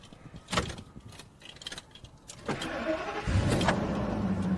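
A Ford F250 V10 4x4 with a new battery cranks, then its engine catches and settles into a steady idle, preceded by a few clunks and thuds like a door or hood.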